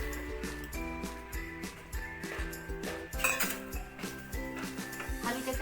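Sesame seeds being dry-roasted in a pan for jaggery chikki, with steady clinks and scraping of a utensil against the metal and a dense rattling texture throughout, moderately loud, no talking.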